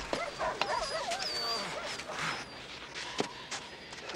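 A sled dog named in a film scene lets out high, wavering whimpers and yips close by, several short cries scattered through the moment, alongside rustling movement with no speech.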